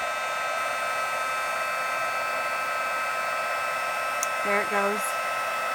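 A heat embossing tool blows hot air in a steady, loud, unbroken whoosh that runs close to the microphone the whole time, with a brief spoken remark near the end.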